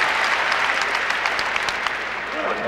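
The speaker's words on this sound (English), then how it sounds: "gets a nice round of applause as he trots off" Steady applause from a basketball arena crowd at an Indiana vs Michigan game fills the air, a dense wash of clapping that holds for a few seconds.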